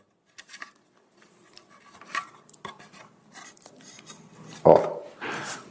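Scratchy sanding strokes of sandpaper working burrs off the cut end of a threaded rod, a series of short irregular rasps that grow louder, with a sharp scrape near the end.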